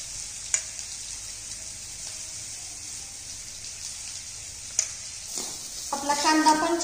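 Onions fry until reddish in a pan for crispy poha, giving a low, steady sizzle with a couple of sharp utensil clinks and a burst of stirring scrape toward the end.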